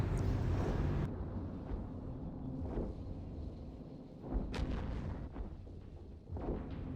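Spaceship weapons fire in the space combat video game EVE Echoes, with repeated booming shots over a steady low rumble, a loud burst near the start and sharper cracks later, with no voices present.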